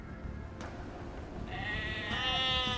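Sheep bleating in the video game Age of Empires 2, a single drawn-out bleat rising near the end over a quiet game background.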